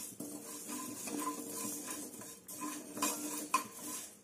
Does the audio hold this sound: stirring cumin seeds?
yes